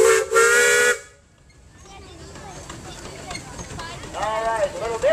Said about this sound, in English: Toot the whistle there, Brian.